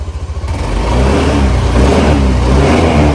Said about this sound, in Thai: มาลองสตาร์ทกันเลยดีกว่า จับซ้ายสตาร์ทขวาปุ๊บติดปั้งเรียบร้อยนะครับ